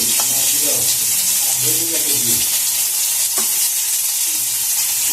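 Cumin, ginger and chilli paste frying in hot oil in a home kitchen, a steady broadband sizzle throughout with a few sharp pops and soft clatter of stirring, loud and close.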